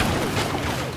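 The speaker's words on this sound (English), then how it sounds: "Oh, explosions." Explosions rumble through a Star Wars Battlefront match in a single brief, loud, dense burst of blast noise with no voices.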